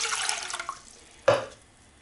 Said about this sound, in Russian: выливаем воду